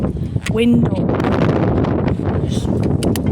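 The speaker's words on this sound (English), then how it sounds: "It's very, very windy up here where I live." Strong wind buffets the microphone in heavy, rumbling gusts, with a brief whistle-like tone and scattered rustling throughout.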